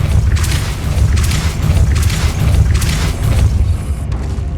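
The Depulso spell goes off in Hogwarts Legacy as a loud, deep booming rumble that swells in several waves, with airy whooshing bursts on top, then fades near the end.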